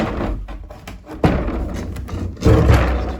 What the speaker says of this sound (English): Door goes open.